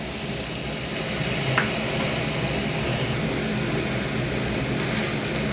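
Chopped onion, garlic, ginger and a little tomato sizzling in a hot pan with bay leaf and dried chilli, a steady even hiss and crackle throughout with no talking.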